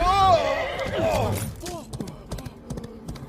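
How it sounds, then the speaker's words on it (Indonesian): Horses neigh loudly in a film scene, a shrill whinny rising and falling at the start, followed by lighter rhythmic hoofbeats of galloping as the animals ride off. "mereka berdua pun langsung kabur naik kuda"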